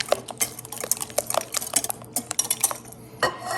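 A spoon clinks and scrapes against a bowl while quiche custard with thyme, cayenne and nutmeg is stirred, making a quick, irregular run of close metallic taps and scrapes with no talking.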